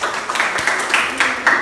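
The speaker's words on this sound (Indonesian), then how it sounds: "Baik, berikan tepuk tangan." Classroom applause from a group of students, a short burst of clapping lasting under two seconds with uneven bursts, moderately loud and close.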